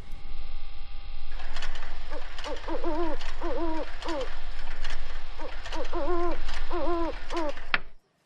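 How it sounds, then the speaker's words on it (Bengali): An owl's hoots play back from a tape recording, repeated in short groups over a steady mechanical whir and faint ratcheting of the machine, loud and close, ending with an abrupt click into silence. "শুনলাম প্যাঁচার ডাক।"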